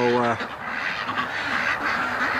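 Ducks quacking close by outdoors, a burst of loud nasal quacks up front followed by softer honking calls scattered through the rest, with wind in the background.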